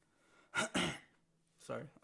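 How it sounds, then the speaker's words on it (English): A person clears their throat in a quiet room: two quick, rough bursts close together, a short silence, then one more. "I'm just trying to clear my throat."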